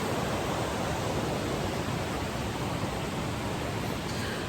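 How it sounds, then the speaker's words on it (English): A river flows right beside a parked van and is heard from inside, a steady, full rushing wash of water with no pauses and no voices. "you can really hear the river"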